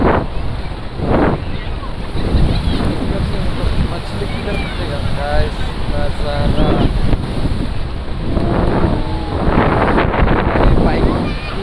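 Loud, steady rush of high water at an outdoor fishing spot, with heavy wind buffeting the microphone throughout while someone speaks over it.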